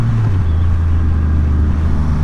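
A 2020 Triumph Rocket 3 motorcycle engine drones loud and close under acceleration, a deep steady rumble whose pitch shifts early on and then holds.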